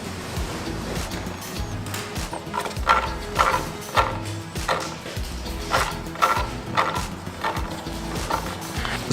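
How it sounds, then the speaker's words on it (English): A brake unit grinding against the metal inside of a wheel near its brake disc, a rough scraping that repeats in steady, rhythmic surges over a constant mechanical whir, with no voices. "It sounds like the brake unit itself is grinding on the inside of the wheel against the metal."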